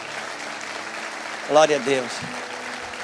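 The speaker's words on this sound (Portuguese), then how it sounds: "Periga esse aplauso aí do pregador se empolgar de ver isso." Soft, steady applause from a church congregation fills the background while someone briefly speaks over it near the middle.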